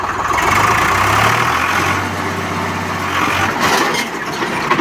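A Swaraj 735FE tractor engine runs close by, a loud steady rumble with a low drone that rises and falls slightly as it works over bricks.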